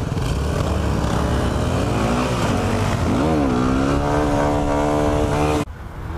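A Yamaha sportbike engine roars loudly and steadily, its harmonic drone rising and dipping through a brief rev around the middle before cutting off abruptly near the end.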